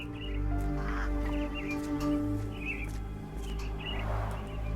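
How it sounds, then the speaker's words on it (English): Caged mynah birds in the Sherlock Holmes Awakened video game give short, scattered whistles and chattering calls at moderate distance over a steady low hum. "Minor birds, if I'm not mistaken. Beautiful creatures. Sad that they're caged here."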